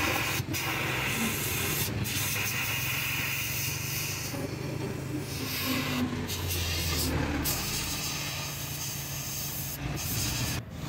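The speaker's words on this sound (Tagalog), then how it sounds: "meron dyang air pressure para talagang malinis, mawala yung mga natirang oil na namuo" Compressed air blasts old oil out of a motorcycle engine at a repair shop in Caloocan, a steady, close hissing rush that holds continuously with a few brief breaks.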